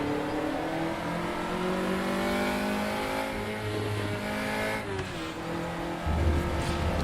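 Formula Junior race car in the RaceRoom racing game, a steady high engine whine holding near constant revs with gear-change dips and brief tire noise, no talking.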